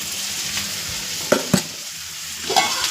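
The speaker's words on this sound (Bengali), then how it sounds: "তো আলুর সাথে একটু পেঁয়াজটা ভাজবো" Potatoes and onion fry in a pan with a soft steady sizzle, broken by a few sharp scrapes and knocks of stirring.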